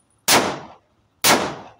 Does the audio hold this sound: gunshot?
yes